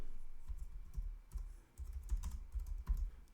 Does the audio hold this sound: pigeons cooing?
no